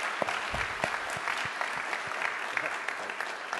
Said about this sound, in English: Let's give a round of applause for Les Payne,